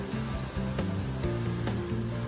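Pilipit dough twists fry in hot oil over moderate heat, giving a continuous close sizzle and crackle with faint background music and no talking.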